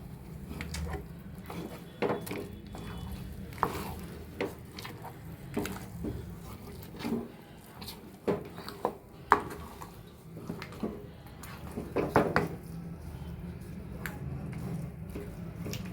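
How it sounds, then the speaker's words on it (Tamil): Asoka halwa being stirred in a pan over low heat as ghee is added little by little, giving repeated scraping and clinking of a spoon against the pan with a low background hum and no talk. "நெய்யை கொஞ்சம் கொஞ்சமாக அதோடு சேர்த்து நல்லா கிளறி விட்டுக்குவோம்"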